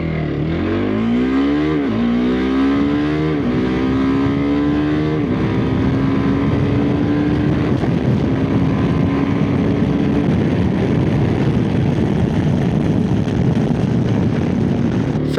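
A TVS Apache RTX 300 motorcycle during an acceleration test, its engine note climbing steadily through several gear changes, each shift briefly dropping the pitch before it rises again, loud and close over wind rush.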